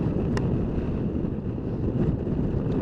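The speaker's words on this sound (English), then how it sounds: "It's quite windy tonight. There's a cracking side wind coming from the left" A strong side wind buffets the microphone during a night motorcycle ride, a continuous loud rumbling roar with a brief tick near the start.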